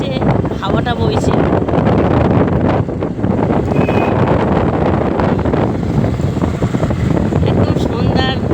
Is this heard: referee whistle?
no